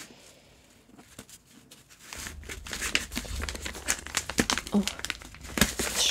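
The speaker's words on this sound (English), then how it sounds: "time for some ASMR unwrapping" A wrapped blind-date book package is unwrapped, with close, crisp paper crinkling and tearing that grows busier and louder after a quieter start.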